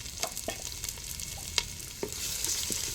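Chopped onion goes into hot oil with curry leaves and fries with a steady close hiss, broken by a few light clicks and scrapes of stirring.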